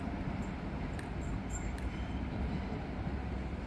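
A train rumbles past on the Mediterranean Corridor line at Tarragona, a steady, loud, close wash of rolling noise with a few faint high squeals and clicks over the top.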